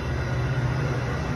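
A steady, loud rumble with a low hum, a train rolling past nearby without pause.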